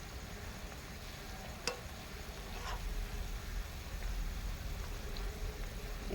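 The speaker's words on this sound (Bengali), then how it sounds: "হালকা আঁচে এটা ভাজতে হবে, তাহলে ভিতর থেকে সুন্দর হয়ে যাবে" Flour-dough sweets fry gently in hot oil over low heat, a steady quiet sizzle with a couple of sharp clicks and no talking.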